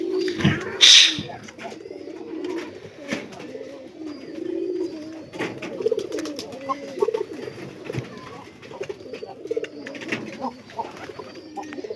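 Pigeons coo repeatedly in low, throaty bursts close by, with rustling, flapping and occasional background noises throughout.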